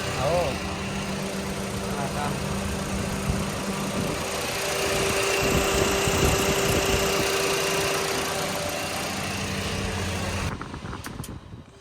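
A car engine idles steadily with the air conditioning switched on for a cooling check, a constant close mechanical hum and fan whir running throughout, with voices talking over it before it cuts off near the end.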